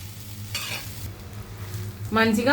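A spoon stirring boiled foxtail millet into a sizzling fried mixture in a pan, with continuous frying hiss and scraping, close and steady, louder in the last moments.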